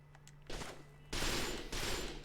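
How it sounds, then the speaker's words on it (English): Bursts of rapid gunfire from the video game Resistance 3 crackle in quick volleys, fairly loud, with a low steady hum underneath and no talking. "I think the volume for the gunfire might be a little bit too loud"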